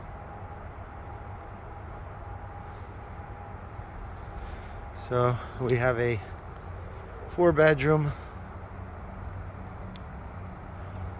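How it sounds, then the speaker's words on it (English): Steady highway traffic hums faintly in the background outside a house, a constant low wash of road noise, while someone speaks briefly over it. "you could hear in the background the noise from the highway"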